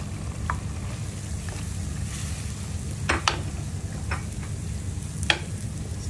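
Marinated prawns frying in a hot pan with chilli and garlic, a soft steady sizzle with a low rumble beneath and a few sharp spatula taps.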